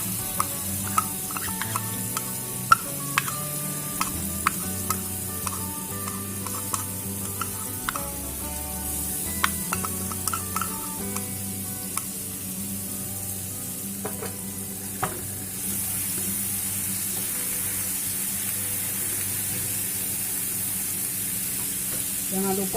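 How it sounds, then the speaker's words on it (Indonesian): Ground spice paste stir-frying in a little cooking oil, with steady sizzle and frequent scraping stirs of a utensil against the pan, close and moderately loud; the sizzle swells louder toward the end. "Kita tumis bumbu yang sudah dihaluskan tadi ya teman-teman dengan sedikit minyak goreng."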